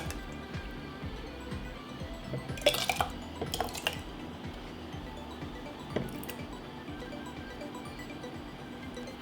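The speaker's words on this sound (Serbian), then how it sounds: "I tako punimo sve tegle redom." Homemade tomato adjika being ladled into sterilised glass jars: a few sharp clinks of ladle against glass over a steady low background, with soft wet pours between, no voices.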